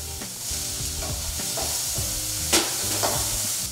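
Tomatoes added to a hot frying pan that already holds ginger-garlic paste sizzle loudly and constantly, with light stirring scrapes and a couple of sharper pops.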